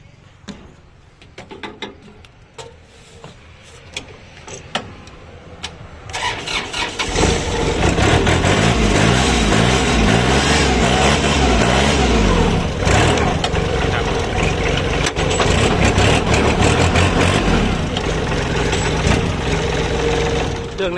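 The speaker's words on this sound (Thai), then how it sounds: "เดี๋ยวผมสตาร์ทให้ฟังเสียง" A used farm tractor engine cranks and catches after a few seconds of quiet handling noise, then settles into a loud, steady, rhythmic idle that runs to the end.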